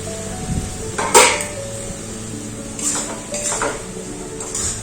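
A metal pan lid lifted off a pan of ridge gourd and onion cooking on the stove, a sharp clanking scrape followed by a few lighter metallic knocks and clinks, close and without talk.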